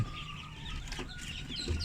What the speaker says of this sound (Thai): เป็ดอายุประมาณ4วันและตัวโตนะครับ